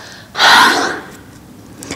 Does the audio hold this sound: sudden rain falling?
no